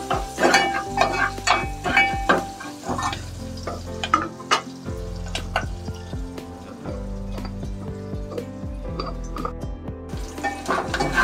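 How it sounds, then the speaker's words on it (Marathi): Garlic stirred and sautéed in a pan for Marathi toor dal amti, with a steady close sizzle broken by repeated scraping and clattering stirs, with no talking. "लसूण पण ढवळून घेऊया, म्हणजे परतून घेऊया चांगली"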